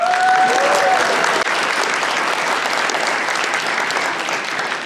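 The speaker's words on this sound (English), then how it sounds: "Can we clap it up for her?" A live audience at a speaker event claps for an attendee, steady, full applause sustained loud throughout with a brief faint tone near the start.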